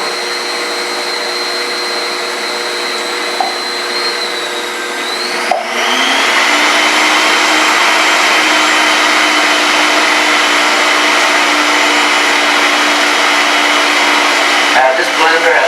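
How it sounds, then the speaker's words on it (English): A blender runs steadily while mixing a batch of non-toxic toothpaste, its loud whirring motor shifting pitch around the midpoint as the mixture smooths out, then holding a constant drone until the end. "This blender has only seen this product."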